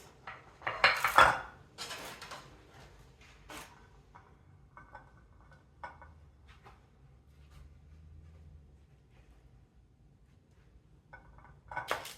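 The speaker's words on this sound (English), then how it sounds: "Butter the bread." Knife scraping butter across slices of bread for a tuna melt in a home kitchen, a few short clattering scrapes up front, then faint intermittent clinks and scrapes.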